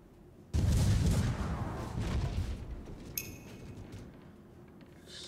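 A heavy ship cannon booms in Port Royale 4, a loud sudden blast followed by a rumbling, fading tail and a sharper crack of further fire a few seconds later.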